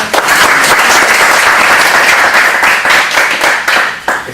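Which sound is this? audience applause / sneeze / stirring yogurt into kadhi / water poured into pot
audience applause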